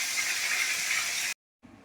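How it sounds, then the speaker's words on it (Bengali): Prawns fry in a pan with a loud, steady close hiss that cuts off abruptly, then returns more quietly after a short pause. "আর এখানে আমি মাছগুলো ভেজে নিচ্ছি।"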